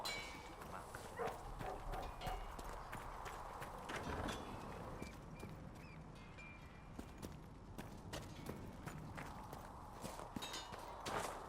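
Horse hooves clip-clopping steadily in Dragon Age Inquisition, a walking gait of close, repeated knocks over faint ambient background.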